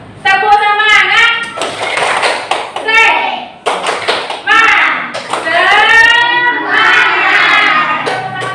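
Schoolchildren in an Indonesian classroom chant loudly together while clapping a quick rhythmic spirit-clap pattern, sharp hand claps punctuating their shouted voices throughout.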